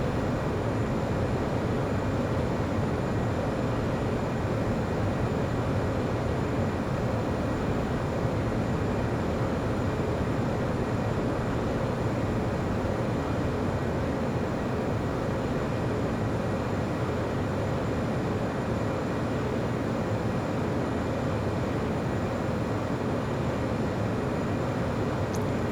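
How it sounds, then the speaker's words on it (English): Jet fighter engine roar during takeoff in the video game Ace Combat X, a steady loud broadband rumble holding constant throughout, with no voices. "Griffith 1, you are cleared for takeoff."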